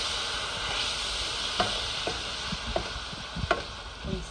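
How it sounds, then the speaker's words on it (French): Salt fish sauce sizzles and crackles steadily in a hot pan after a splash of water goes in, with a few sharper pops and utensil taps scattered through the continuous hiss. "nous ajoutons un peu de l'eau dans la cuisson"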